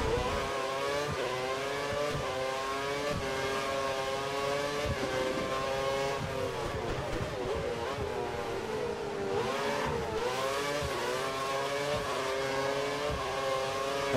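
Steady high-pitched race car engine drone in F1 2013 on Xbox 360, constant and loud with slight pitch swells as revs rise and fall, another car close behind, no voices.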